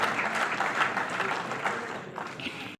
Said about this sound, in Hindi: बहुत बहुत तालियों की आवाज रुकनी नहीं चाहिए।